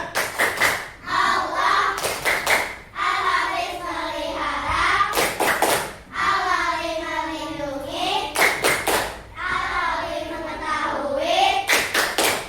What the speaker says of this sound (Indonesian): Tepuk tangan Asmaul Husna